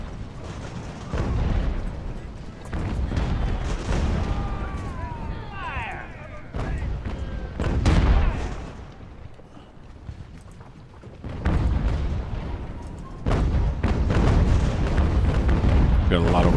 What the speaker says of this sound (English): Got a lot of artillery now.